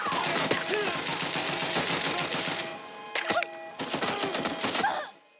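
Gunfire in the video game Watch Dogs: Legion, rapid rattling bursts of automatic shots for several seconds, then a few scattered sharp shots with short gaps, up close and loud.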